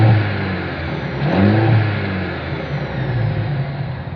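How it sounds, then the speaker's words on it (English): A 2025 Mercedes-Benz E 350 engine revs up and settles back, a low exhaust rumble rising in the middle before dropping to a steady idle. "As always, here is that exhaust clip."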